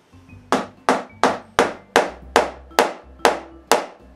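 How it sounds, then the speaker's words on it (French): A wooden mallet taps wooden tokens into holes drilled in oak nine times in an even rhythm, each blow a sharp, close knock. "je les assois avec l'aide de maillet"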